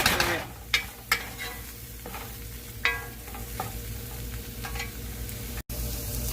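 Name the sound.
broth poured into a pan of mushroom onion gravy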